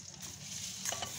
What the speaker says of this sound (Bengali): ডিম ভাজায় বসিয়ে দিয়েছি নুন হলুদ দিয়ে